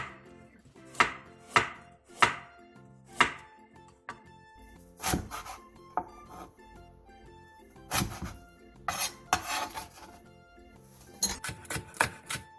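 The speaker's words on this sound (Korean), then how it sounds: "양파 한 개를 채 썰어 주세요" A knife slices onion and carrot on a cutting board. Crisp, distinct chops come in an uneven rhythm, first spaced and then quicker clusters, sharp and close with quiet gaps between.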